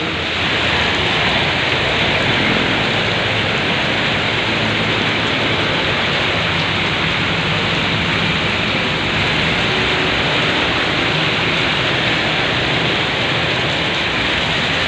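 Steady, heavy rain pours down in a dense, unbroken hiss, loud and constant for the whole stretch with no voices.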